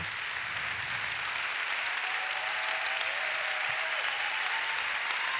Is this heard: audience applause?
yes